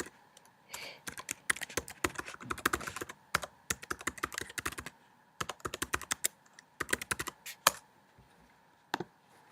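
Password keys tapped on a computer keyboard, a quick run of sharp clicks in uneven bursts with short pauses, close and clear with no talking.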